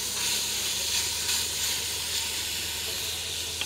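Meat with onion sizzles in a hot pan for lasagne, a steady bright hiss of frying with a low background hum and no pauses.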